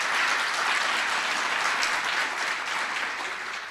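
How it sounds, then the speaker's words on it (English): An audience at a startup demo day in Amman claps, a dense, steady burst of applause that fills the room and fades slightly toward the end. "I'd love you to join me in giving a round of applause to the startups"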